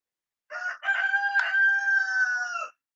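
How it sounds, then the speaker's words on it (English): A rooster gives a single loud, close cock-a-doodle-doo, a short opening note followed by a long sustained call of about two seconds, alone against silence. "Okay, the rooster's crowing."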